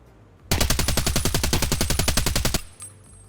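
A long full-auto burst from an SA58 rifle in Escape from Tarkov, about two seconds of rapid, evenly spaced loud shots that stop abruptly, then a short fading tail.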